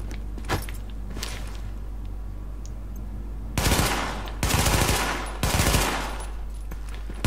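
Bursts of rifle fire in The Division, a short crack early on and then three sustained automatic volleys in quick succession, loud and close with no talk over them.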